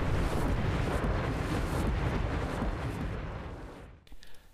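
An Elementalist's Meteor Shower spell in Guild Wars 2 pounds out a dense, continuous roar of rumbling impacts that slowly fades, leaving a few scattered crackles at the end.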